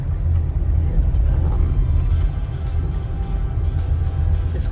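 A car engine cruising steadily in second gear at low speed on a drive around Sedona, heard as a continuous low rumble that holds an even drone with no clear revving throughout.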